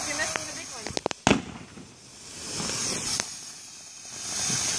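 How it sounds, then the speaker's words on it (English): July 4th fireworks crackle and pop outdoors, with a burst of sharp bangs in quick succession followed by a hissing fizz and scattered later pops, while people talk in the background. "I'll record the fireworks so we can see them again later."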